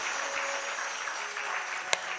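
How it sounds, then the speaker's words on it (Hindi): Audience applause at a spiritual discourse: a steady wash of many hands clapping throughout, with one sharper clap standing out near the end. "ब्रह्मा जी के लिए ताली बजाइए"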